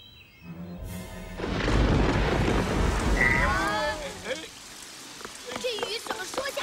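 Rain falls in an animated cartoon scene, a dense, steady patter that swells and holds beneath brief tonal effects.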